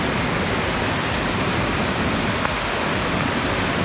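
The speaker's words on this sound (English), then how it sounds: "Can y'all hear that water?" A roaring waterfall sends up a steady, loud wash of rushing water that fills the whole clip with unbroken noise and no voices.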